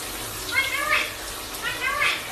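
Shower water running steadily in a bathroom, a constant hiss under faint chirpy vocal sounds.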